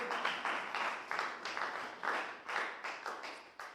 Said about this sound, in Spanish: dele palmas al Señor con todo su corazón